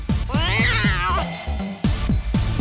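A cartoon cat lets out a long, wavering, whiny meow over a bouncy musical backing with steady low thumping beats, up close and loud.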